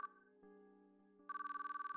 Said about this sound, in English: as I listened to the phone ring